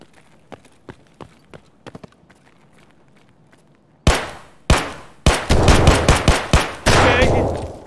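Gunshots in Escape From Tarkov, first a spaced series of distant sharp cracks, then a loud close burst of rapid automatic fire with heavy echoing tails.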